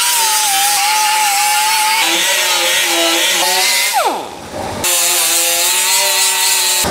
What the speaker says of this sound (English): now we're pretty much ground all the way down